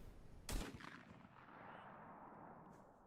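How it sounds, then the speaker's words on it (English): A double-barrel shotgun fires a single loud, sharp blast outdoors, its report trailing off into a long, fading rumble with no talk. "There, see? I can shoot."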